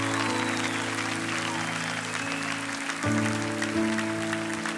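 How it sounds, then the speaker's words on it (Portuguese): A church congregation claps in a broad, sustained wash of applause, blended with steady held keyboard or organ chords. "Você pode aplaudir Jesus?"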